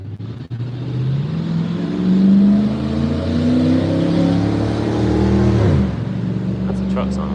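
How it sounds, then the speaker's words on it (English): A pickup truck engine revs up in a long rising sweep, holds high, then drops sharply before settling back, close and fairly loud. "That's a truck sounding like that."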